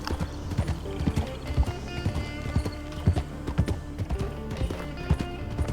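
Horse hooves clip-clopping in a steady trotting rhythm in a Red Dead roleplay game, close and clear, with the odd snort or whinny over a faint background bed.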